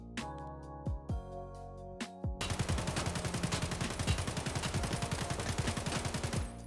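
AK-74M rifle in Escape from Tarkov with the laser turned off: a few separate single shots, then a sustained rapid burst of automatic fire, loud and close with no voices.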